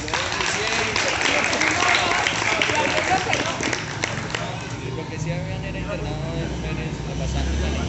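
A crowd applauds a singer after his musical performance in Palermo, a dense, sustained wash of clapping with crowd voices mixed in, holding steady for the whole stretch.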